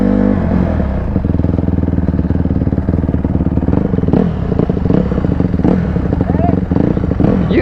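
A 250 quad bike engine runs loud and close with steady revving and rattling clatter before a race in a parking lot, its continuous roar filling the whole stretch without pause.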